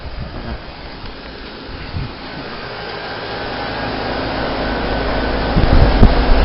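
An outdoor heat pump unit running in heat mode, a steady broadband fan whoosh and compressor hum that grows gradually louder, ending with a few low thumps, no talk.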